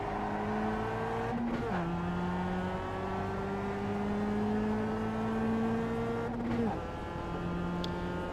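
A race car on the Jefferson circuit accelerates hard through the gears, its engine note climbing steadily, dropping at each upshift and climbing again, loud and continuous from the cockpit with a brief tire squeal.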